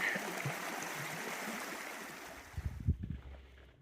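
A stream flows steadily with a soft, continuous rush and trickle; the water fades near the end as a few low bumps and thumps sound close by.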